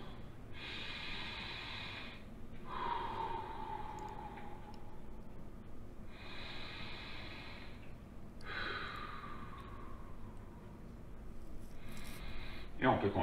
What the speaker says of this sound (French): La respiration.